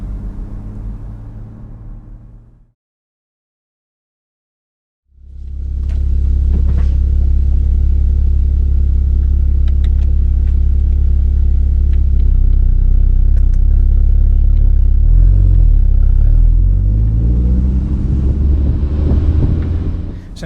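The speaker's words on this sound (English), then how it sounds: "make sure our sports exhaust is on, and enjoy some top-down motoring" A Porsche Boxster with its sports exhaust on, driving top-down: after a brief pause a loud, deep engine rumble swells in and holds steady with wind buffeting, rising toward the end as it accelerates.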